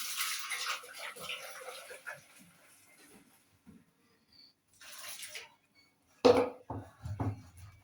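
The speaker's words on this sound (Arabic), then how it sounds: "وهنحط له شويه ميه" Water splashes and gurgles steadily into a blender jug for a couple of seconds, then fades; a few hard clunks and clatters follow near the end.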